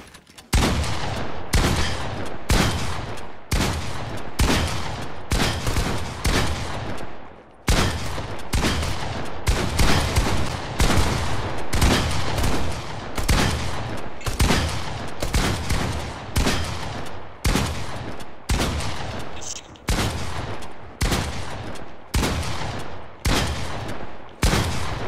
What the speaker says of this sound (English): Are you shooting a shotgun?